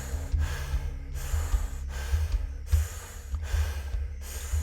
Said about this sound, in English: Keep that breathing constant.